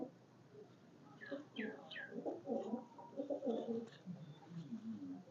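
Kalnokia pigeons coo softly in short, repeated throaty calls while a person talks nearby.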